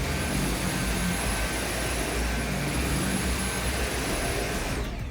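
A cordless vacuum cleaner passes over sand spread on a floor, producing a loud, continuous roaring whine that holds steady throughout with no talking.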